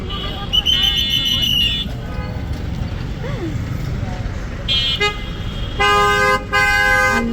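Car and rickshaw horns honk repeatedly in a traffic jam on a Dhaka street, with long and short toots near and far over a dense rumble of traffic, while people talk.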